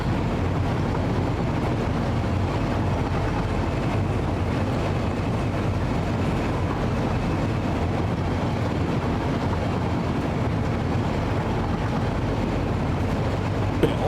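A train ride in the factory-building game Satisfactory gives a steady low rumble and rushing noise that holds evenly and loudly throughout with no breaks.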